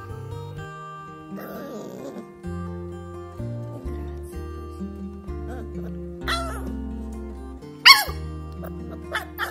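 Short, high barks and yips from a puppy break out at scattered moments over a steady musical backing, one sharp guarding bark standing out near the end.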